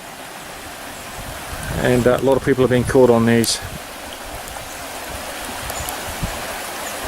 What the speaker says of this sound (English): The water's still running in this creek.